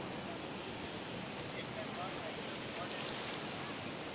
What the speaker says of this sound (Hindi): ये देख रहे हैं आप पानी कितनी तेज़ी से आ रहा है